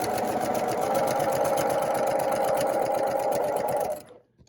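A sewing machine runs in a rapid, steady mechanical chatter, backstitching a seam on quilt pieces, then stops abruptly.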